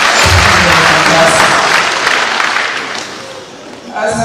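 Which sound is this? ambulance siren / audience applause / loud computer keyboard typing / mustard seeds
audience applause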